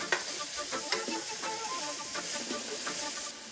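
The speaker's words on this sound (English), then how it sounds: "Nice saute happening here" Ingredients for akee and saltfish, with tomato going in, sauté in hot oil in a pan: a steady close sizzle and frying hiss, broken by repeated scrapes and clinks of stirring.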